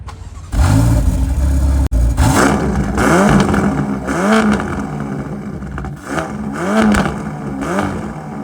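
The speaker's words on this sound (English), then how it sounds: "whatever Ferrari did with the exhaust, really, really makes it stand out" A Ferrari Portofino engine revs hard several times in quick succession, the exhaust note rising and falling loudly and up close with no talking.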